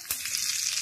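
Curry leaves fry in hot oil in a pan, making a loud, continuous crackling sizzle that stays bright and steady throughout, with a sharper burst near the start.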